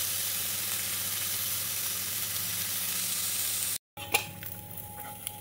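Fish fries on a worn, damaged nonstick tawa with a steady, close hiss of sizzling oil that cuts off abruptly, then returns as quieter crackling with a few scraping and clinking touches.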